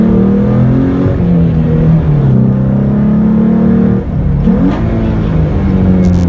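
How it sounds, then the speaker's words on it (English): A 2012 Ford Mustang 3.7L V6 engine revs and accelerates hard, its droning pitch rising and falling as gears change, loud and close with no talking. "we're taking off here on this 2012 Ford Mustang V6"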